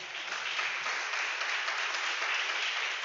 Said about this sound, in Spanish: Yo daría un fuerte aplauso en esta hora.